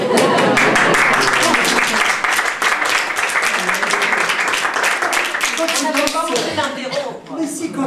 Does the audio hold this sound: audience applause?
yes